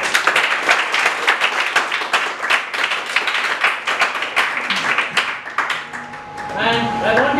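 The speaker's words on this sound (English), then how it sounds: "I want you all to give a very big clap to Khan and Nilofar Madam." An indoor audience at a Ramadan iftar gathering in an office claps together in a dense, steady run of applause. As it fades, a voice and some talk come through.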